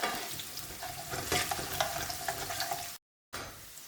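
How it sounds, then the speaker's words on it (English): Chopped garlic sizzles in a pan for a prawn curry, a steady close crackle with occasional stirring scrapes and a brief silent break near the end; no one speaks. "Right, the garlic's cooked off nicely."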